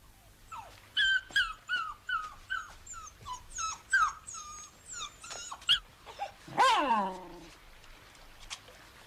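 A dog whimpers and yips in a run of short, close whines, then gives a longer, rising whine near the end, with faint low growling underneath in a quiet indoor setting.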